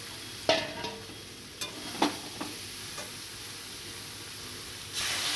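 Soybean chunks fry in a pan, a soft steady sizzle broken by a few sharp scrapes and knocks of a spatula stirring them, close and fairly quiet, with a louder hiss swelling at the end.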